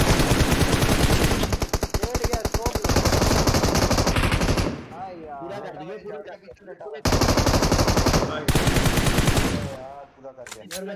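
Sustained automatic machine gun fire from a squad-based battle royale shooter game, loud rapid bursts over several seconds, breaking off briefly and resuming, with voice chat talking faintly underneath.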